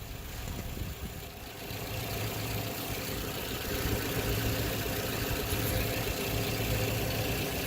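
A 2012 Toyota RAV4 engine idling while warming up, a steady low rumble with constant broadband noise throughout, close and unbroken.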